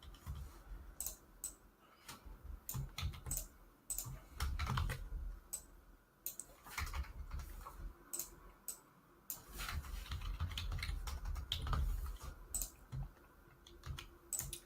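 Rapid, irregular typing on a computer keyboard while writing Python code, with close, crisp key clicks in quick bursts and short pauses throughout.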